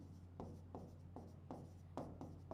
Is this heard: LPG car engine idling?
no